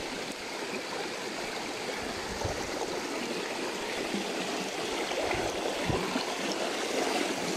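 A forest stream flows over stones in a steady, rushing babble, close and constant, with no talk.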